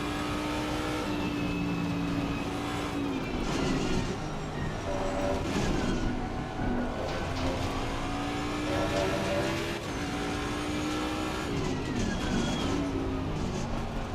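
Ford Mustang race car in Assetto Corsa Competizione, lapping Imola in an online race, its engine droning loudly and continuously with shifting pitch and gear changes throughout, while a voice talks over it.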